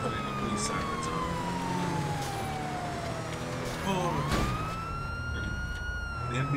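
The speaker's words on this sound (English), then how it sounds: "The NPCs will kind of pull over if we put the police sirens on." Police car sirens blare in GTA Online, a steady wailing tone sweeping down then rising again, loud and continuous over engine and traffic noise.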